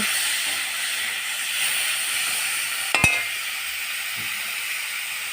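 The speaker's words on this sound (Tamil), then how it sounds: "கொஞ்சம் கொத்தமல்லி தலை போட்டு நல்லா வதக்கிக்கோங்க" Coriander leaves sauté in a hot pan for a potato rice dish, giving a steady soft hiss of frying. A single sharp scrape or click of the spoon stands out midway.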